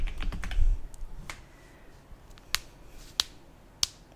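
Computer keyboard keys click during typing, a scattered run of light taps followed by a few sharper, louder isolated clicks, close and alone without talk.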